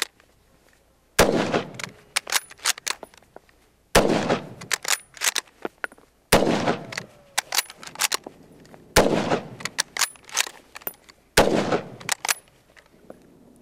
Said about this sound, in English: we will demonstrate a bolt action rifle and see how fast, generally, someone may be able to cycle through and fire all five rounds